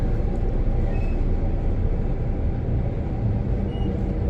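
A Transperth electric train runs on the Joondalup line toward Perth, a steady rumbling roar of wheels and motors heard from inside the carriage, continuous and fairly loud.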